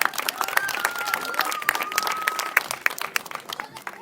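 Audience applauds performers and volunteers at the end of a live stage show, steady dense clapping with scattered cheers and some crowd voices throughout.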